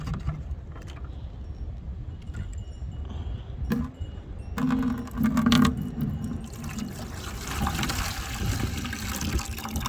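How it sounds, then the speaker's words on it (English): Maple sap poured from a jug into a filter: steady liquid trickling and splashing that swells from about the midpoint onward, close by, with light handling clatter of the jug in between. "take the jug, the best way you can, and pour it over into this. Just tip it sideways."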